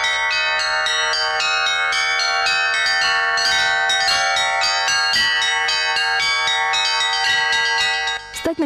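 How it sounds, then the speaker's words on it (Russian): Orthodox church bells ring in a touring bell procession concert, a dense, continuous peal of overlapping tones and strikes that sounds loud and close throughout, with no pause. "Через 20 городов проехали колокола, оглашая страну малиновым звоном."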